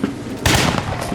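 Musket and cannon fire in a reenactment of the battle at the Alamo: a dense, loud burst of crackling gunfire with booming reports, continuous over a second.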